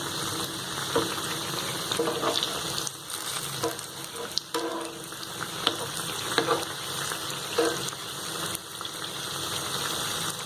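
Banana bonda deep-frying in hot oil, a continuous bubbling sizzle with small pops and crackles, steady and close throughout.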